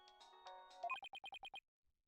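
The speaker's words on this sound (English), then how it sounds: "just the fact that Apollo's guitar serenade as his ringtone" Apollo's guitar serenade ringtone from the Ace Attorney: Dual Destinies game, a short melodic phrase followed by six evenly spaced bright electronic chimes, then silence.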